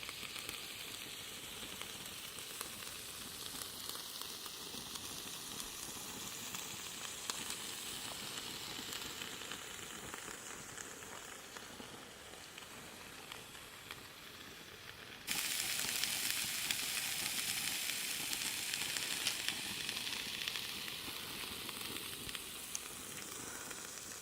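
Food sizzles steadily in a pan over an outdoor camp stove by a smoky lake, with Anaheim peppers and asparagus among the ingredients. A continuous close hiss runs throughout and grows louder partway through.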